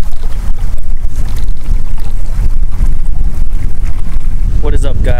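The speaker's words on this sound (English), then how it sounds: "It's so windy." Loud, constant wind roaring and buffeting close up beside Watauga Lake, Tennessee, rumbling low and unbroken, with a brief voice near the end.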